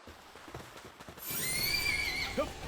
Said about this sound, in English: you stupid horse